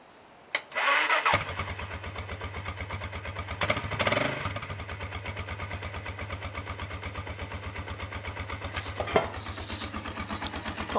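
A 1994 Suzuki DR650 motorcycle cranks briefly and catches, then settles into a quiet, even, thumping single-cylinder idle up close, with a couple of clicks and knocks around it.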